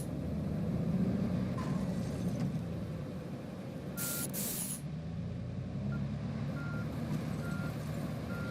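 A lorry's reversing beeps in a truck driving game, heard as faint repeated tones over a steady engine and road rumble, with a short burst of air-brake hiss in the middle and no talk.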